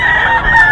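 A rooster crows at a gamecock market in Bocaue, a single short, loud, close harsh call with strained harmonics.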